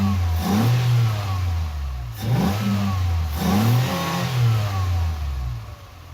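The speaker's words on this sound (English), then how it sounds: "You'll see when I rev the engine" A car engine with intake manifold runner control revs up three times in quick bursts, each rising then falling back to a low idle, loud and close with no voices.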